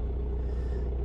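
A 2003 VW Golf engine runs with a steady, deep idling rumble, loud and close, with no voices over it.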